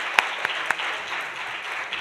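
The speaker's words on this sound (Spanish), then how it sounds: "le damos un fuerte aplauso" Audience applause at a technical conference session on gender and employment for vulnerable groups, a steady wash of many hands clapping for about two seconds with a few sharper individual claps standing out near the start.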